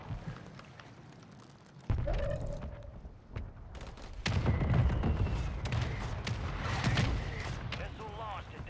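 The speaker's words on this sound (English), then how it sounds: "Someone's shooting me." Gunfire and heavy blasts in the Call of Duty video game, a sudden loud burst followed by a dense stretch of shots and rumbling explosions over game effects, with voices talking underneath.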